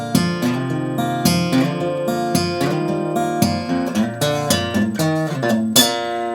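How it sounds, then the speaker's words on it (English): Acoustic guitar played with sharp percussive string flicks near the bridge using the middle finger, snappy attacks landing in a steady rhythm among ringing chords, close and loud. "The way I'm getting that sound is by flicking the strings close to the bridge with my middle"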